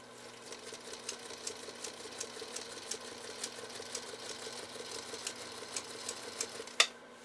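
A Singer Featherweight sewing machine stitching through full grain leather under foot-pedal control, a steady rapid mechanical chatter with a low motor hum, close and continuous, ending in a sharp click.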